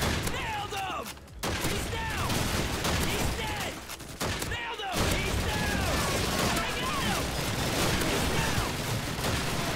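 Continuous gunfire from the PC game Call of Duty 2 rattles through a dense, busy battle mix, with repeated shots and bursts layered over one another and brief gaps of lower activity.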